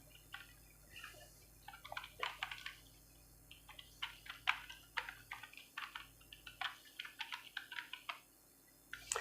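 Someone types the alphabet from A to Z into Notepad on a computer keyboard, a quiet, irregular run of crisp key clicks in short bursts and pauses, with no talking.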